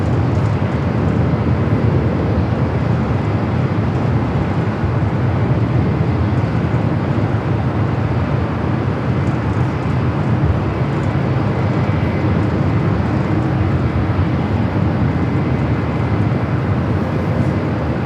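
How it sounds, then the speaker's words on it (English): A Boeing 787-8 Dreamliner jet at LAX airport gives off a loud, steady broadband roar that holds for the whole stretch without fading and plays alone. "787-8 Dreamliner heading back to Tokyo Narita in the 787-8 Dreamliner."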